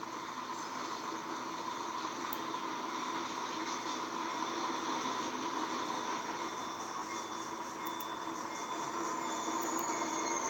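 A locomotive in the Trainz railroad game picks up its first cut of railcars, giving a steady low rolling rumble with faint high wheel squeal and occasional metallic clicks, heard alone.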